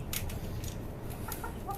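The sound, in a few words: tiger and desi chickens on rooftop farm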